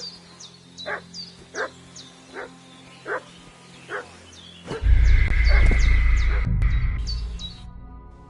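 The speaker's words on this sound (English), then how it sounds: "What's that dog making such a fuss about?" A dog barks in the video game Kingdom Come: Deliverance II, with about six separate, evenly spaced barks near at hand. Birds chirp beside them, and a loud rumbling burst of noise takes over halfway through.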